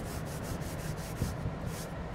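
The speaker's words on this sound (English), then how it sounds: "just sand it down with the sanding pad to get" A sanding pad is rubbed back and forth over a leather steering wheel, a soft, steady, close scratching hiss in even strokes with no talking.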